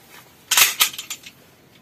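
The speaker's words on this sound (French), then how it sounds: "Par sécurité, j'ouvre la culasse." Breech of an unloaded handgun opened by hand: a quick metallic click-clack burst of several sharp mechanical snaps, close and fairly crisp, over a quiet room.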